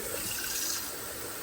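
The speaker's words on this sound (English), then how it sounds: "I'm going to rinse this jar out with some water." Tap water running into a sauce jar in a kitchen sink during rinsing, a steady close hiss of flowing and filling water with no pause.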